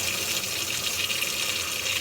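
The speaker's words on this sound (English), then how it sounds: "I'm just going to go ahead and run some warm water into my wash basin." Warm water runs steadily from a tap into a wash basin beside a sink, a continuous close splashing hiss with no talking.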